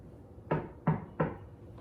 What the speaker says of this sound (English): When suddenly there was a knock on the door.